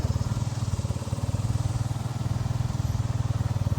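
A vehicle engine runs close by at a steady, throbbing pace throughout, with an even pulse and no clear rise in revs.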